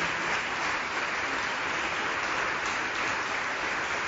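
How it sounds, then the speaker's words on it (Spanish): A church congregation applauds steadily at a Torah study service, a dense even wash of clapping that holds for the whole stretch with no talk over it. "Si aplaudimos no es por una emoción tonta"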